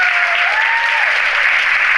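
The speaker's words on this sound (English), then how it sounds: "So I think that we should give her a round of applause because she's a rock star." Loud, dense applause from an audience at an empowerment gala fills the whole moment steadily, with a faint tone or voice drifting above the crowd's clapping.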